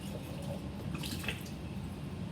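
Lab glassware gets rinsed under running water, a continuous close splashing stream with a few brief trickling accents, no voices.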